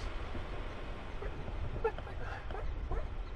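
Prairie dogs among cactus give faint, scattered yips and chirps against a low background hum, brief calls spread across the outdoor scene.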